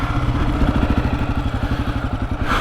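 A Honda CRF250F dirt bike engine idles in 2nd gear close by with a rapid, steady, throbbing putter that stays even throughout.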